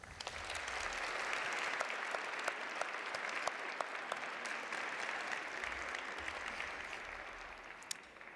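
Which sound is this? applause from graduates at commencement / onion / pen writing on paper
applause from graduates at commencement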